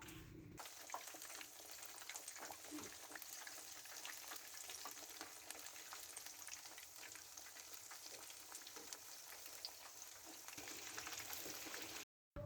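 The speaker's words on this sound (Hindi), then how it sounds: "अब हम फ़िश की साइड्स चेंज करेंगे ताकि फ़िश दूसरी साइड से भी अच्छी तरह फ्राई हो जाए।" Fish frying in hot oil in a pan: a steady, soft crackling sizzle that carries on for the whole stretch and cuts off at the end.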